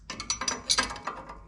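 A coilover strut on a Subaru Legacy wagon is threaded onto its base, producing a quick run of close metallic clicking and ratcheting ticks.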